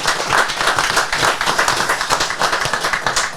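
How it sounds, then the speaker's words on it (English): A small crowd at a reloading Q&A session at a shooting supply shop claps for the guests, loud and close, with individual hand claps distinct in a brisk, uneven burst lasting a few seconds. "Let's give a round of applause to these dudes for coming along"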